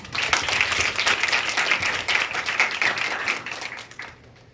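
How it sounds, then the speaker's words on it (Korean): A lecture-hall audience applauds a speaker with dense, continuous clapping at fairly close range that holds steady for about four seconds, then quickly dies away. "이영익 연사자께 큰 박수 부탁드립니다"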